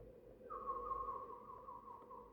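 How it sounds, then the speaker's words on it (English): A keeper whistles to attract a chick's attention: one clear, sustained tone that dips slightly in pitch and then holds, close and alone over quiet room noise. "He whistles to attract its attention."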